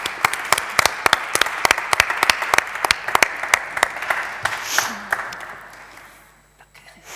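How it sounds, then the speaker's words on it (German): Audience applause for a guest being welcomed onto a stage at a German-language evening event: steady, dense clapping that runs for several seconds, then thins and fades out toward the end. "schenken wir ihm gleich einen großen Applaus"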